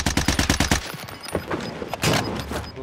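Gunfire from the video game Warzone: a rapid burst of about eight loud, evenly spaced shots in the opening second, then scattered further impacts and bangs in a busy battle mix.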